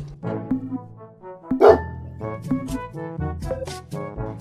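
A Labrador barks in short, separate woofs, with one louder burst near the middle, over a soft musical background.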